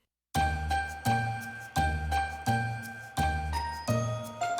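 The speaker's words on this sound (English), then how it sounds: "Santa's magical bell." A round golden bell, Santa's, rings out in bright, sustained jingling strokes, six rhythmic bursts that each shimmer and decay, loud and close with no voices.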